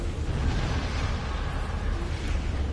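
Loud, continuous rumbling blasts and booming bursts from enemy ships exploding in a Star Trek space combat video game, a dense roar that fills the moment with no voices.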